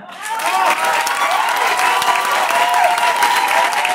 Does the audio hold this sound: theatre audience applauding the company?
yes